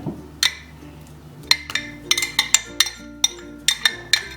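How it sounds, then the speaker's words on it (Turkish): Butter is mixed in a bowl for cookie dough in a home kitchen, with a metal spoon or utensil clinking against the bowl in a series of sharp, irregular taps, close and moderately loud, with no talk. "Tereyağı koyacağız. Sonra sen karıştıracaksın."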